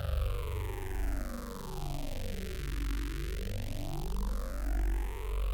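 A dense, buzzing synthesizer tone sweeps down and then back up, with a heavy, throbbing low end pulsing underneath, sounding gritty and aggressive.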